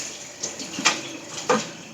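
Soaked salted cabbage and water tipped into a colander, a soft close splashing pour with two brief louder gushes over a quiet trickle.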